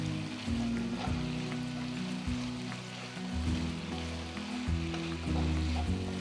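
Chicken filling for chicken French toast frying in a pan, a steady close sizzle running throughout with no voices, its texture shifting slightly as the pieces cook.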